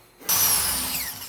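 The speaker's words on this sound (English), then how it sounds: "Broke my drill bit." A power drill bites into material with a sudden loud whine that starts abruptly and runs briefly at high speed, a strained, fading pitch sweep suggesting the bit breaking, with no talk.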